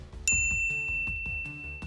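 A bright notification bell chimes once, sharp and clear, then rings out over a soft, rhythmic musical backing.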